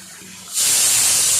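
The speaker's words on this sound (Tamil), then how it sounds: "இப்போ நம்ம ஒரு ஸ்பூன் நெய் ஊற்றிக்கலாம் மேலே" A spoon of ghee poured over mutton biryani cooking in a pot, bursting into a loud, steady sizzling hiss that starts abruptly and holds close up.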